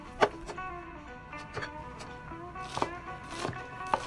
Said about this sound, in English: Chop pepper finely